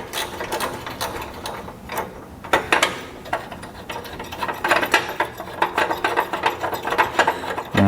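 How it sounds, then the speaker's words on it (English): A bolt is worked loose from an exhaust bracket on a low-mileage VW Golf, giving rapid ratcheting clicks and metallic rattling bursts close up, heard steadily throughout with no talk. "I'm taking this bolt, I just take it all the way out."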